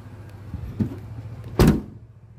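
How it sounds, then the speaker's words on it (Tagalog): A Toyota Innova E car door is shut with a single solid thud near the end, preceded by faint handling clicks, close and alone without speech. "Sara ng pintuan, maayos."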